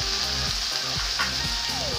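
Diced potatoes fry in oil in a pan for a poha breakfast, giving a steady, close sizzle with faint tonal sounds running underneath throughout.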